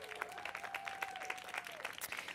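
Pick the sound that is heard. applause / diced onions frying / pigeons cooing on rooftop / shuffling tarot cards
applause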